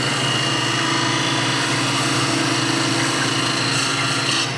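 A 5/8-inch spindle gouge cuts a wood hollow form spinning on a lathe, a steady close scraping whir over the motor's drone, continuous throughout without pause.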